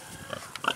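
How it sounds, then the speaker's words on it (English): Purebred Swabian hogs give a few short, close grunts in a quick uneven burst lasting under a second. "Those are purebred Swabian Hogs."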